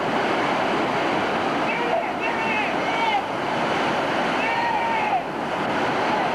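Rushing whitewater rapids on the Gauley River roar continuously with wind noise, crashing over a raft, and faint shouts rise in the distance over the churning water.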